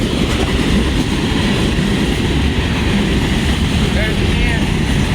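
A southbound freight train rolls past in Bunkie, Louisiana, its loud steady rumble and wheel clatter filling the whole stretch at close range, with faint squeals rising above the roar near the end.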